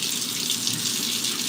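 Tap water runs steadily into a cooking pot being filled for boiling, a close, loud and even gush with no talking over it.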